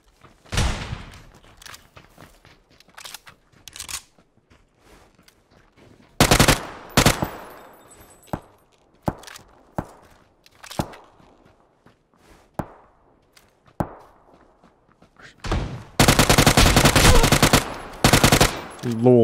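Gunfire in PUBG from an iron-sighted weapon, with scattered single shots and footsteps followed by loud sustained bursts of automatic fire near the end.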